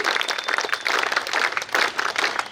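A crowd of staff and students applauds loudly at a school inauguration ceremony, continuous close, dense clapping with rhythmic surges throughout and no speech.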